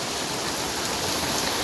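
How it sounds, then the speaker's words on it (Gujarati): A downpour drums steadily on a street in Surat, a thick continuous roar of falling water heard close and loud without any voices. "કેવો વરસાદ આવે"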